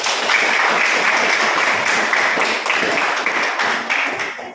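A classroom audience gives applause to a student group that has just finished presenting. Dense, steady clapping from many hands runs the full length, then trails off slightly at the end, with no talk.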